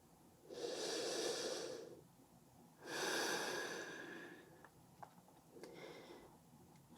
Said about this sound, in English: Inhale and exhale. Couple more deep breaths here.